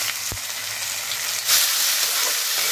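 Ground masala paste and peas frying in hot oil in a pan, a steady loud sizzle up close with a brief clatter of stirring and a surge of hiss midway.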